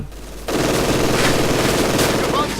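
Machine gun fire in the Company of Heroes 2 video game, a dense continuous rattle of rapid bursts starting abruptly and running loud and close to the end, with faint background voices.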